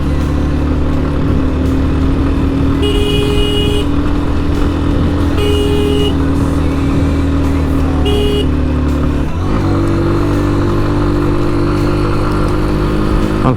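A vehicle engine hums steadily while driving on a trip from Tomatungi toward Dhaka, with a clear shift in engine pitch partway through as the gear changes from second to third, plus brief higher tones above the drone.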